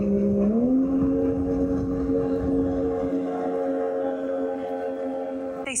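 A motorboat engine drones steadily on the James River, rising slightly in pitch early on, then holding a continuous hum as it passes.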